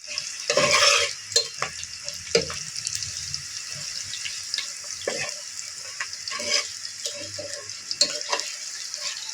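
Stirring and frying in beef fat for khichuri, with a steady hiss of sizzling oil and repeated scraping strokes of a spoon against the pot, close and fairly loud, with no talk.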